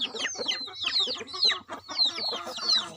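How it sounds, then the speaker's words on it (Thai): Several chickens cluck and squawk in quick repeated calls, close and lively, with no voices. "ไก่บ้านเขาชอบบรรยากาศที่โล่งๆโปร่งๆค่ะ"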